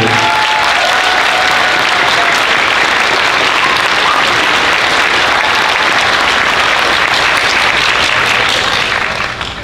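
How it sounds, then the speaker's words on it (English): At a seventh grade band spring concert, the audience gives loud, sustained applause: a thick, continuous roar of clapping that stays strong throughout and tapers slightly at the very end. "I would encourage you to give them a round of applause for the amount of work that they're putting into"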